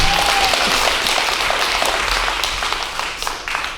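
An audience at a city council meeting breaks into loud applause and clapping that gradually thins and fades, ending with scattered claps.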